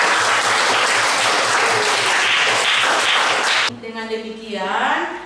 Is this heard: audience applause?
yes